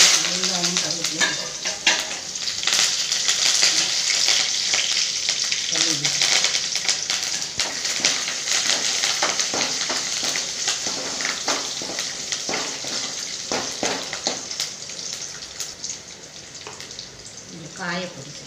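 Mustard seeds, onion and curry leaves fry in a hot pan for a tempering, giving a steady crackling sizzle with sharp pops and spatters throughout, plus occasional stirring. A voice is faintly present.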